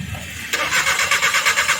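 A Suzuki Every van engine with a faulty ECM cranks but fails to start. After a short pause the starter motor turns over with a loud, rapid, pulsing rhythm close by.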